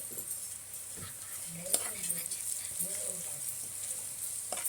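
A soft, steady sizzle of turmeric, chilli powder and masala frying in a pan, fairly quiet, with a few faint clinks and a voice talking lightly over it.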